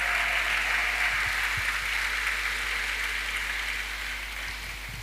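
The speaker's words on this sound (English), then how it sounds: "Let's clap for Jesus Christ." A church congregation at a Christian event in Côte d'Ivoire applauds steadily, a dense wash of clapping that stays fairly even throughout and fades slightly at the end.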